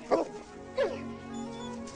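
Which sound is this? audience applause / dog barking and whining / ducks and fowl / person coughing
dog barking and whining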